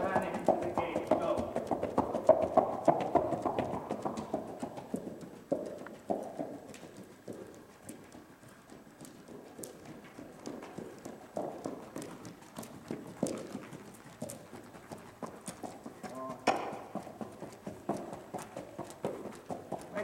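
A horse's hooves clip-clop in a steady rhythm while it works figure eights, moderately near and fairly quiet, with occasional bird calls in the background.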